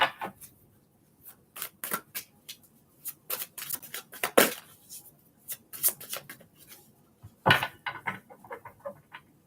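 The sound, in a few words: shuffling a deck of tarot cards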